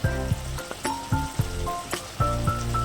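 Amul butter sizzling as it hits mutton biryani in a hot pot, a steady frying hiss with repeated soft bursts and faint clinks of the spoon, close and alone.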